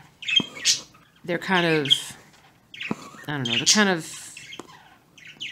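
Pet birds chirp, squawk and chatter indoors in short, close bursts with pauses between, while a person speaks briefly.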